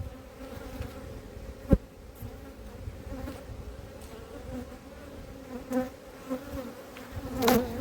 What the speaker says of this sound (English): Look how many bees there are in there.